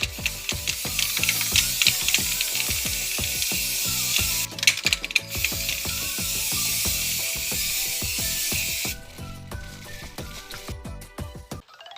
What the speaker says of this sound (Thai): ไปพ่นสีสเปรย์กันเลย